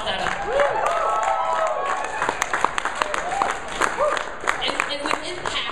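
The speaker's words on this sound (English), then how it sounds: "Clap that up." An audience at a brand camp event applauds, with brisk clapping, some cheering and lively crowd voices near and busy throughout.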